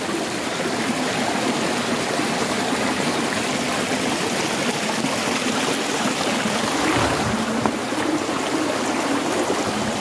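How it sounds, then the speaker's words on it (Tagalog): A creek flows in a steady, close, full rushing wash of water that stays constant throughout, with no talking. "Dito na ako sa Sapa"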